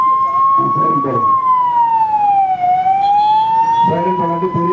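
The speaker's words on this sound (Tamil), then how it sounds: "சைரன் போடுங்க, சைரன் போடுங்க." A campaign vehicle's siren wails continuously and loudly at an election rally, its tone sliding slowly down and back up, with crowd or voice sounds mixed in at the start and end.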